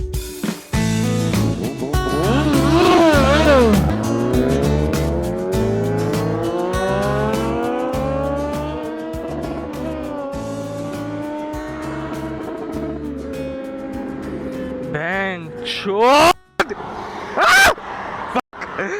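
A powerful Honda Fireblade motorcycle engine revs hard to redline, pitch climbing in long sweeping rises toward the top of its range, loud and close, with a few sharp bursts near the end.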